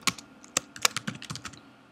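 Quick, uneven keystrokes on a computer keyboard as a layout name is typed, about a dozen crisp close clicks spread over two seconds with no talking.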